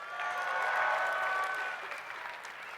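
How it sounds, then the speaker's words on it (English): Conference audience at D2DCON 2020 breaks into applause, a broad, steady wash of clapping from a large room that swells and then slowly tapers off. "Give him a round of applause."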